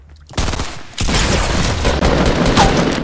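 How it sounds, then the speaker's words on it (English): Rapid gunfire in the battle royale game Fortnite, a sustained burst of loud automatic shots that starts abruptly after a brief quiet moment and keeps going to the end without pause. "is he shooting somebody?"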